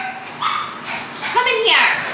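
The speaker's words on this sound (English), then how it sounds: "Mama is not happy because the daddy just got too close to the crate with the puppies." A mother dog near her puppies' crate gives short yips, whines and whimpers, close and upset, mixed with people talking around her.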